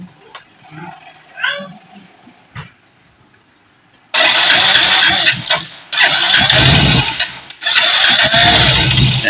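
A Yamaha Soul GT 125 scooter fitted with a Fazzio piston cranks and fires up, settling into a loud, close, steady running engine after a quiet stretch of faint clicks and background noise.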